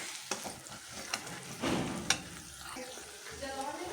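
Spoon stirring chili and turmeric powder into fried ginger, garlic and cumin in a pan, with soft scraping strokes over a low sizzle, a few sharper clinks standing out.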